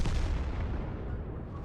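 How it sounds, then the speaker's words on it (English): Tank cannon fire in a tank video game with a T-62A and an Object 279, a loud dense boom that rumbles and fades over under two seconds. "The shot coming in from the 279 just whizzes past him."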